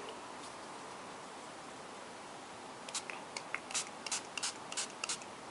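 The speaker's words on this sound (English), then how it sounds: "So let's go ahead and spray that." Short bursts of Starburst spray paint in T-Bird Turquoise hiss onto a canvas panel, a string of quick sprays starting after a few seconds of steady background noise.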